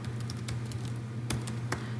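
Typing on a computer keyboard, with soft, quick, irregular key clicks close by over a low background hum.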